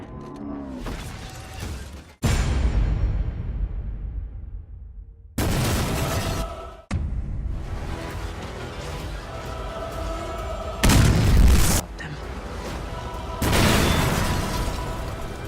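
Movie explosions from a Transformers film, a string of loud booming blasts and crashing bursts with rumbling debris between them, broken by sudden cuts to quieter stretches.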